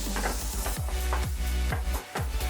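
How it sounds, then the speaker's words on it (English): Liver stew, maini fry, being stirred in a pot: a continuous sizzle with regular thudding strokes of a spoon against the pot, close and steady, with no talk. "Then I stir."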